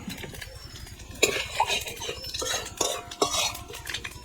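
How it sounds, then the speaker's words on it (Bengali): Whole cumin, garam masala and bay leaves sizzle in hot oil left from frying potatoes in a pan, with a metal utensil repeatedly stirring and scraping against the pan in close, irregular strokes. "এবার আলু ভাজা তেলে ফোড়ন দিয়ে দেবো জিরে গোটা গরম মশলা তেজপাতা"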